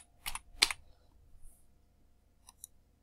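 A few quiet clicks from a computer keyboard come as a short burst of keystrokes, followed by faint, sparse taps in an otherwise silent room.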